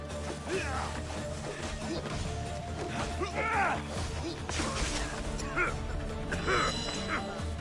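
Dogs bark and yip in a video game fight, mixed with impact crashes and thwacks, while a person talks over the action.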